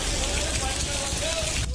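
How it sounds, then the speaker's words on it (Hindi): Heavy rain pours down on the city of Amroha in Uttar Pradesh, India, making a steady, loud, broadband hiss of water hitting surfaces with no pauses. "भारी बारिश ने यूपी के कई शहरों में तांडव मचाया।"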